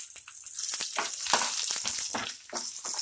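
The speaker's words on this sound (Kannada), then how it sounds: "ನೋಡಿ, ಈರುಳ್ಳಿ ನಾನು ಫ್ರೈ ಮಾಡ್ಕೊಂಡಿದ್ದೀನಿ." Onions and cumin sizzle and crackle in a hot pan, a close, fairly loud hiss with bursts of sputtering, heard alone with no talking.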